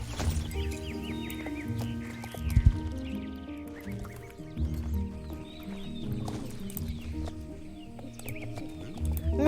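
A pony trots in the Star Stable video game, with steady rhythmic clip-clop hoofbeats and a few neighs over a layer of background game music.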